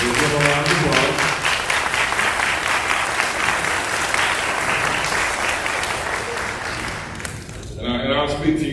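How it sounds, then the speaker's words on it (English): Dense applause from a graduation ceremony audience honoring the parents, steady and full for most of the stretch before thinning out near the end, with a voice beginning to speak over the tail. "All of the parents, let's give them a round of applause."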